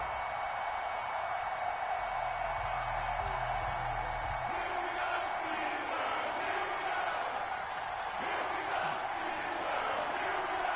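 A stadium crowd at a Cleveland Browns vs Pittsburgh Steelers NFL game in an EA Sports video game keeps up a steady, distant roar, with faint whoops rising now and then throughout.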